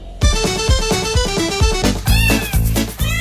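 A cat's meow rings out over a loud, bright musical jingle with a steady beat, close and clear, with no talking.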